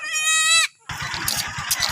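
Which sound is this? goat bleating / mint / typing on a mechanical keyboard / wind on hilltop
goat bleating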